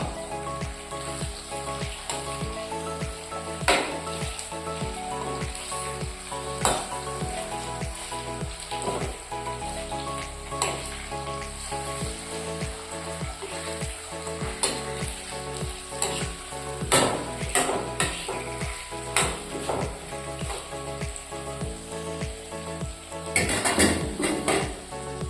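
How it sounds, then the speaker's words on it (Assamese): Pieces of rohu fish fry in hot oil in a kadai, a steady loud sizzle with occasional spatters and the clink of a utensil against the pan, no talk. "এতিয়া আমি কেৰাহীত মাছখিনি দি"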